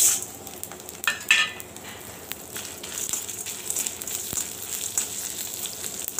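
Urad dal, cumin, dried chilies and asafoetida roast in a pan for chutney, a faint dry sizzle with occasional scraping stirs, quiet and close.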